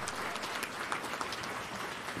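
Attendees at a jigsaw puzzle championship closing ceremony applaud themselves in a brief, full burst of crowd clapping with no one speaking over it.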